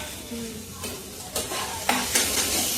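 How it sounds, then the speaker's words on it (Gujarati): Chopped onions frying in hot oil for a lentil dish, a steady broadband sizzle with a few sharper crackles and stirring scrapes, close and continuous with no voices. "ગાઈસ કાંદા નાખવામાં આવ્યા છે।"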